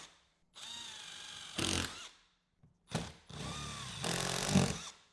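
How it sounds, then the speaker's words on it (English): A power drill boring pilot holes into 3D-printed motorcycle bodywork for a speaker kit on a new-style Harley-Davidson, in two loud whirring bursts with a brief pause between, each ending in a harsher grinding surge. "Let's go ahead and pre-drill a couple of our pilot holes."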